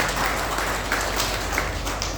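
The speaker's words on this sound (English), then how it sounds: "Let us give a big round of applause to Dr." Applause from a seminar audience welcoming a doctor, broad steady clapping held at an even level across the whole moment with no voices standing out.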